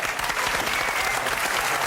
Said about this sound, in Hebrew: הרבה מחיאות כפיים לרוני ששון